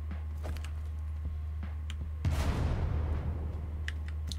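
A grenade bursts in the indie roguelike shooter SULFUR, a sudden broad blast about halfway through that decays into a rumbling tail, preceded by faint scattered clicks and a low steady game hum.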